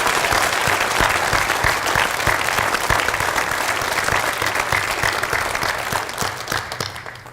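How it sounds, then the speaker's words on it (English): A high school hall of fame audience claps for five inductees in a sustained, dense round of applause that stays loud throughout and fades slightly at the end. "Let's give them one final round of applause."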